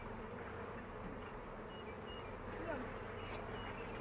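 Honey bees hum in a dense, steady drone close by during a hive inspection, a soft continuous buzzing with a few louder individual passes.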